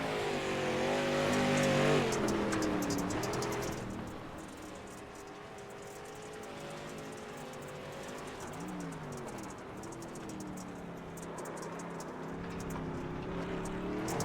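Street stock race cars roar around the Sonoma circuit, engines loud and close with revving pitch swings as they pass and accelerate, a continuous racing drone that dips mid-stretch and swells again near the end.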